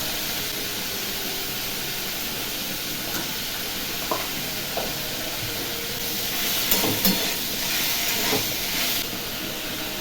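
Food fries in a pan with turmeric, giving a steady close hiss and sizzle with a few faint crackles and pops, and no one talking.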